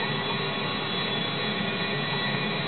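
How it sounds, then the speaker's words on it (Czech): A steady, loud jet engine roar from an airplane in GTA V fills the scene, a constant broadband whoosh with no talk over it. "Tak a teďka už zlítáme s tímto letadlem."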